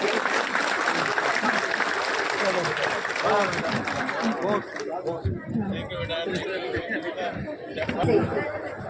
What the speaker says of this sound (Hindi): एक बार जोरदार तालियों से फिर से